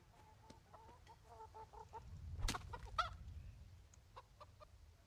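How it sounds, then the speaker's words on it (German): A chicken clucks in the medieval video game Kingdom Come: Deliverance, with a series of short, fairly quiet clucks and squawks and a louder rustling burst in the middle. "Ein Hühnchen."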